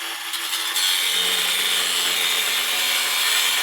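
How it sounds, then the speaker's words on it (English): An angle grinder cuts off bolts during a rear suspension lift on a Ford Super Duty 4x4, a loud continuous high-pitched whine and grinding screech that holds steady throughout. "So we're going to hack this thing off now with this grinder."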